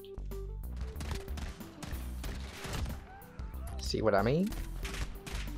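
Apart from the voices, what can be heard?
pistol gunfire in Call of Duty video game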